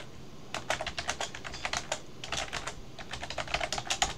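Quick bursts of typing on a computer keyboard, keys clacking in uneven runs with short pauses between them, close and fairly clear against faint room hiss.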